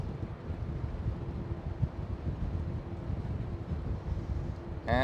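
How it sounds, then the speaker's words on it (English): Wind buffets the microphone at Schiphol airport with a constant, loud, gusty rumble and no voices. "Jeez, it's getting windy here."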